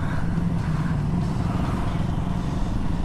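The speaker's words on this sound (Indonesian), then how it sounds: "2 orang di belakang pakai knalpot bising." Motorcycles with loud aftermarket exhaust ride close behind on a road near Ibun, Bandung, a steady, rough low engine drone with no speech.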